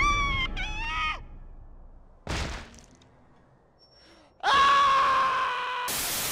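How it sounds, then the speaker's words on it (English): A video game character screams at the top of his lungs on finding a dead body, a loud strained yell, then a sharp crashing burst and a harsh, sustained loud noise after a quiet gap. "he screams at the top of his lungs,"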